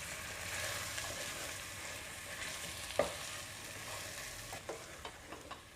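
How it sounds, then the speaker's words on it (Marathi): Mutton curry sautéed in a pan after salt is added, a soft steady sizzle with occasional spatula scrapes and taps, including one sharper knock, quiet and close with no voices. "आणि पुन्हा चांगलं परतून घ्यायचं."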